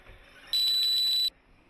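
Electronic beeps ring out as one steady, loud, high-pitched tone lasting under a second, sharply cut off, over faint background.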